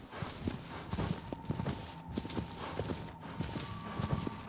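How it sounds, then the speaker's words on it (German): Hoofbeats of a horse in Shadow of the Colossus clatter in a steady, rhythmic clip-clop throughout, moderately close and fairly loud, with no talk over them. "Ich sag doch, das Schlimmste an diesem Spiel ist das Pferd."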